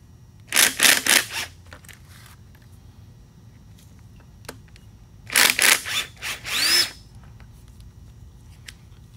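Ratcheting tool loosening the oil cooler bolts on a Chevy Cruze, two short bursts of rapid clicking separated by quiet, close by.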